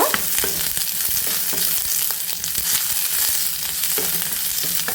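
Sliced onion sizzling steadily in a hot pan for Mangalore-style chicken curry masala, a dense, bright frying hiss with occasional stirring scrapes, close and loud throughout, no voices.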